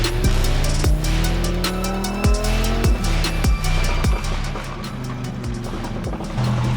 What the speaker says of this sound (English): listen to the rumble of that Urus and listen to it pop